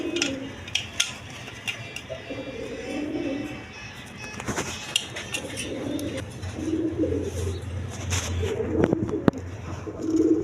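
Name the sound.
cooing red Maltese pigeons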